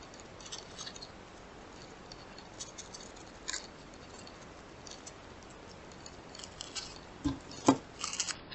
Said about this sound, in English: lay your tissue paper down on your desk or table and cut around